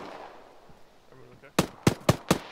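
Four sharp gunshots from a BTR armored vehicle in the military game Arma crack out in a quick, slightly uneven burst after a quiet stretch of faint background noise.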